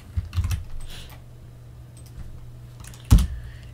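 Someone types a command on a computer keyboard at a Linux terminal, a few scattered key clicks and one firmer final keystroke separated by quiet gaps, with no talking.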